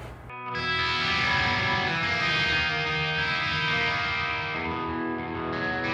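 Bass guitar played through the Vadim Taranov Mars Plexi VST amp plugin on its clean channel, a sustained, harmonically rich and somewhat gritty tone ringing out loud and alone with reverb.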